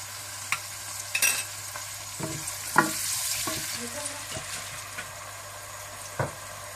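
Steady frying sizzle of onions and salt in a pan with occasional scraping clicks of a spoon stirring, close and continuous, no voices.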